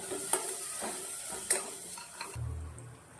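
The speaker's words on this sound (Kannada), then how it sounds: "ಆಮೇಲೆ ಪುನಃ ಮತ್ತೆ ಒಂದು 2 ಮಿನಿಟ್ಸ್ ಫ್ರೈ ಮಾಡೋಣ." Chilli powder, garam masala and cumin powder frying in a pan for tomato bath, a quiet steady sizzle with a couple of sharp spoon taps against the pan, close and without talk.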